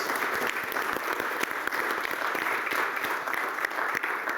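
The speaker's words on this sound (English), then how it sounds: "Please give a round of applause to the panelists." An audience at a harbour craft safety forum applauds the panelists with steady, dense clapping that lasts throughout, close and loud with no talk over it.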